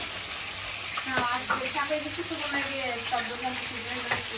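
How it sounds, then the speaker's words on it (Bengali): Fish head frying in hot oil in a home kitchen, cooked ahead of a bottle gourd curry, gives a steady close sizzle with scattered crackles and light clinks, while voices chatter faintly in the background. "ঠিক মাছের মাথা ভাজা হইতেছে লাউ দিয়ে রান্না করার জন্য"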